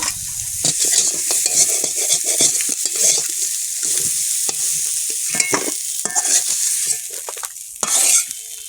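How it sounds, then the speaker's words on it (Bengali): Crabs fry in a wok with a loud, steady sizzle, while a utensil scrapes and clanks against the metal throughout. "কাঁকড়াগুলো তুলে নেবো, ভাজা হয়ে গেছে"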